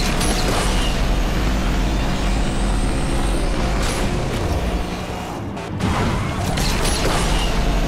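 Racing car engines from the Asphalt 8 Airborne video game, a dense continuous roar with rising revs and a brief dip partway through, loud and steady, with no voices.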